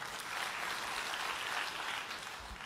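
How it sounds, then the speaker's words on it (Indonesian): A church congregation applauds during a sermon, a broad, even wash of clapping from a large crowd, faint and steady with no distinct individual claps. "Tepuk tangan untuk Tuhan kita"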